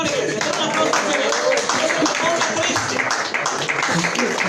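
A church congregation applauds steadily in a dense, continuous wash of clapping, with voices calling out through it.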